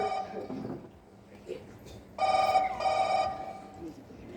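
Telephone ringing during a Konkani comedy stage play: two loud electronic ring bursts after a stretch of voices, with people talking before and around the rings.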